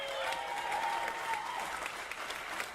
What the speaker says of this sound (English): She hates this, especially when you're clapping for her.